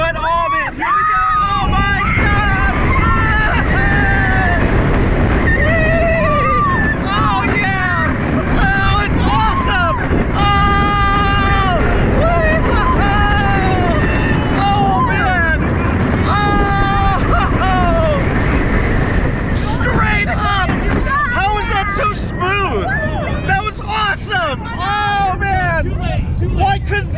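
Aftershock roller coaster at Silverwood theme park, heard on-ride as a loud, continuous roar of wind rush and track rumble, with riders' voices and screams rising over it throughout.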